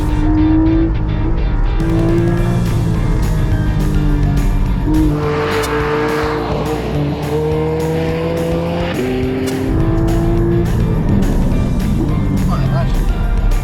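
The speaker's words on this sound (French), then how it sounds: "Non, c'est comme ça que ça freine." A Porsche race car brakes hard and slides, engine tones dropping and rising with tire squeal over a loud, continuous drone, while people talk over it close by.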